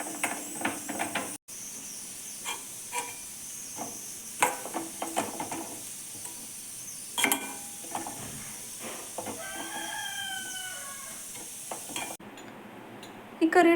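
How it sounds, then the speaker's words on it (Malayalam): Grated coconut being stirred and fried in hot oil for a jackfruit curry, with a soft steady sizzle and intermittent scraping, clattering stirs of a spoon against the pan, close and moderately quiet. "എണ്ണ നന്നായിട്ട് ചൂടായിട്ട് വരുമ്പോൾ നമ്മൾ എടുത്ത് വെച്ചിരിക്കുന്ന തേങ്ങ അതിനകത്തേക്ക് ഇട്ട് കൊടുക്കുകയാണ്"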